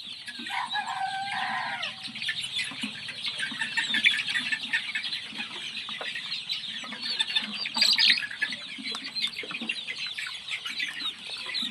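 Chickens and roosters cluck and squawk together in a coop, with a rooster crowing early and busy overlapping calls and chirps continuing throughout at moderate distance.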